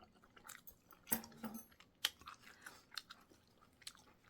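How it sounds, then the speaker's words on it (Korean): Raw surf clams mixed with chojang sauce are chewed close to the microphone: soft, irregular wet crunches and bites, fairly quiet, with no talking. "우럭 조개를 초장에 섞어서 먹어요."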